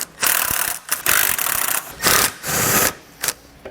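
Impact or air tool running nuts off the bumper beam of a 2021 BMW X7 with an 18mm socket, in several loud whirring bursts of about half a second each, separated by short pauses.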